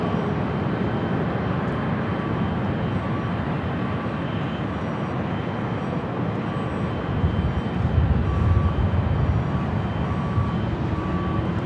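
A 13-year-old Boeing 787-8 Dreamliner landing on runway 24 Right at Los Angeles LAX gives a steady broadband jet rumble that swells slightly toward the end, heard alone without talk.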